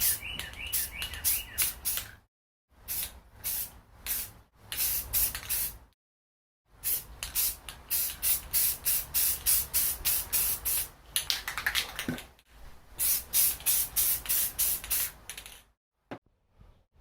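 Rust-Oleum flat black primer sprayed from a can onto a 2012 Honda Civic rim in a series of short hissing bursts, some with a rattling start, separated by brief silences, close and clear.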